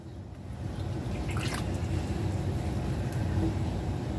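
Water dripping and trickling from freshly rinsed foraged plants laid on a towel, a steady soft patter close by with no voices.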